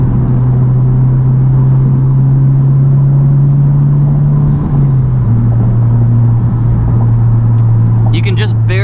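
A 2021 Honda Civic Type R fitted with a MAPerformance street exhaust and downpipe accelerates from the driver's seat. Its loud, steady engine drone rises in pitch, dips briefly at a shift, then climbs again, with a few faint chirps near the end.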